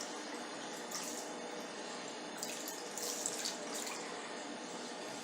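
Water running from a tap over a makeup brush and a cleaning mat at a sink, a soft, steady hiss and trickle with a few brighter splashes, close and continuous.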